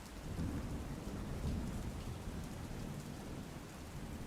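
Heavy rain in Maharashtra pours in a dense, continuous roar with low rumbling, steady and enveloping throughout, with no voices.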